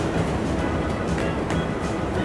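In a children's cartoon, a metro train speeds along with a dense, constant rumble and faint rhythmic clatter, with no talk over it.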